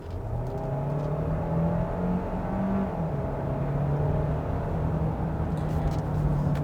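A 2021 Kia Sorento Hybrid with its 1.6 turbo engine and electric motor accelerates at full throttle, a steady engine drone rising gradually in pitch from inside the cabin, loud and continuous throughout.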